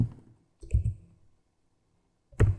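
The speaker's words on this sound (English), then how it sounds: "Press E on the keyboard and write M2." Keys pressed on a computer keyboard while programming PLC ladder logic software for a Fatek PLC: a few separate clicky taps, close and moderately loud, with a near-silent gap before a final sharp press.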